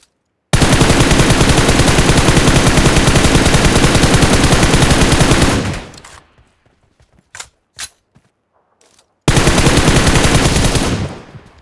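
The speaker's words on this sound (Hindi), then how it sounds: "ऊपर से मेरे पे फायरिंग आने लगती है।" Close, loud automatic weapon fire in a PUBG Mobile gunfight rattles on for about five seconds, gives way to a few sparse single shots, then resumes in a second long burst.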